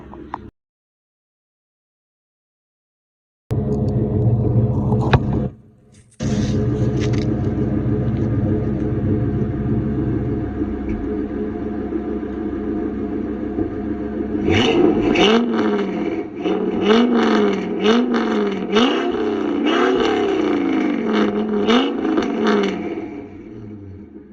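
A straight-piped 2001 Ford Excursion's deep, loud exhaust rumbles at idle after a sharp start, cuts out briefly, then returns and revs repeatedly in rising and falling surges.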